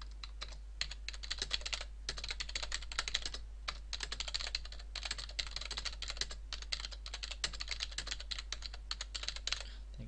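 Steady, rapid keystrokes on a computer keyboard while C# code is entered for a simple word processor, a continuous close clatter of fast bursts with brief pauses and no talk.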